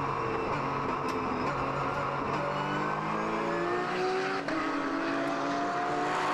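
Porsche GT3 race cars lap the Zandvoort circuit, their engines heard at a distance as rising and falling whines that overlap and shift pitch while the cars pass.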